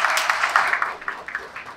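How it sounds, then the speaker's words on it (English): Brief applause from an audience welcoming a host at a storytelling event, a dense burst of clapping that thins out after a second or so, close and fairly loud. "Please give a big round of applause for Ashli Henderson."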